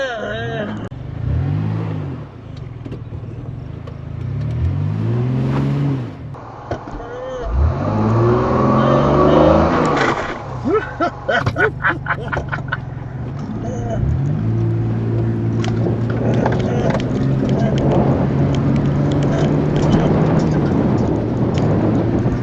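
A car in two-wheel drive revving repeatedly while trying to cross deep water on an off-road trail, engine pitch rising and falling in several loud surges with splashing, voices talking over it at times.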